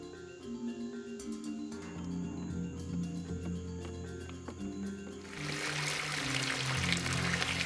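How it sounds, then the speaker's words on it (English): Water begins pouring into an above-ground koi pond; a faint trickle under steady outdoor background hum grows into a loud, broad rushing flow over the last couple of seconds. "Next, I start filling the pond."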